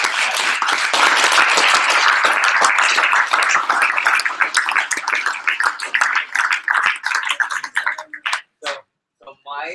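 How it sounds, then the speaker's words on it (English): A room full of people claps loudly and densely for a few seconds at a company event, then the applause thins into scattered claps and fades out before a voice speaks. "Can we give a big round of applause for our Jamaica winners?"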